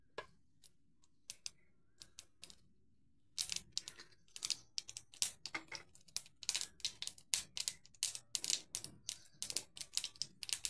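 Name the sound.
mustard seeds spluttering in hot oil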